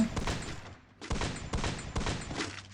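Gunfire in the Free Fire video game: loud, dense bursts of rapid shots in about three volleys separated by short pauses, close and punchy with no voices.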